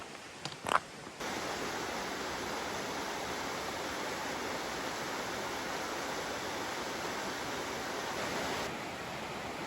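Laurel Creek rushes steadily through a gorge in Tennessee's Pond Mountain Wilderness, a continuous broadband roar of flowing water near the falls, preceded by a few brief knocks at the start.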